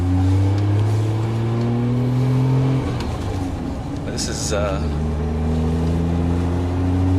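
A Nissan Skyline GT-R R32 engine revs up and down nearby, turbo boost kicking in around 3,000 rpm, its pitch climbing and dropping through the gears, with people talking briefly over it.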